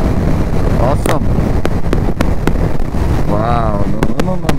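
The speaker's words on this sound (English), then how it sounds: "So it's all windy." Strong wind buffets a microphone during a ride on a Ninja 1000 motorcycle, a loud continuous roar broken by short gusty bursts, with a voice talking over it.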